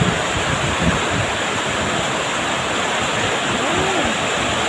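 A sudden heavy downpour pounds outdoors during a community cleanup at a church, making a loud, continuous wash of rain and wind-buffeted noise with no letup.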